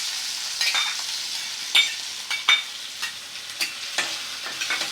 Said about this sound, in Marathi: 1 टमाटा घेतलाय चिरून, ती पण टाकून घेते त्याच्यामध्ये मस्त.